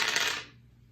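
Dice tumble and rattle across a surface for about half a second in a quick burst of clattering clicks, then stop and leave near silence.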